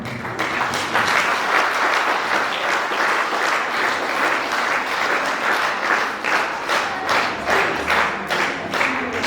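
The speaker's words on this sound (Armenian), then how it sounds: "Եկեք ծափարենք։" Sustained audience applause at a piano concert, a dense, steady wash of clapping from a large crowd lasting several seconds with slight swells.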